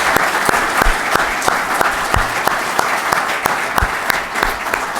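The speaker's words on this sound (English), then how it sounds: "So let's give them a round of applause." An audience at a legislative update event claps in a sustained round of applause, many hands striking steadily with a few sharp louder claps standing out.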